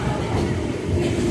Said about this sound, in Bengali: চলেছি চক্র রেল,